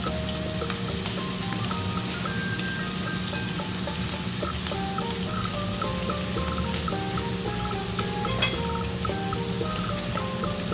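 Shrimp frying in a pan for pineapple fried rice, a constant crackling sizzle with stirring clinks, while faint music plays in the background.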